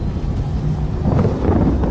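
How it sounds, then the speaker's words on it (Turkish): Strong wind roars continuously, buffeting the microphone with a deep, rumbling rush that swells slightly toward the end. "Nasıl olur da rüzgar bu şekilde artar?"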